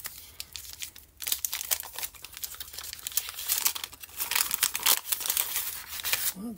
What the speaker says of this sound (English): we're going to rip into these right now.